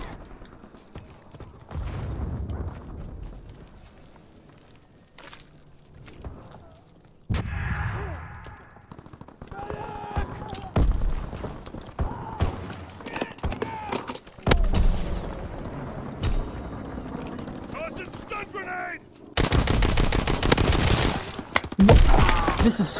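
Gunfire in the World War II shooter game Call of Duty: WWII, with sharp shots and crashing impacts scattered irregularly through a busy, changing battle mix, including a dense loud burst near the end.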